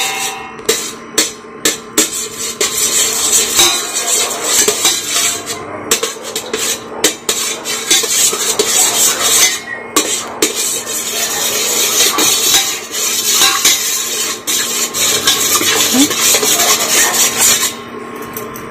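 Caramel payesh with ghee is stirred in a pan, a continuous loud rasping scrape of a spatula against the metal, rhythmic strokes broken by brief pauses.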